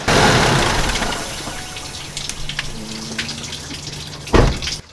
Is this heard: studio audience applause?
no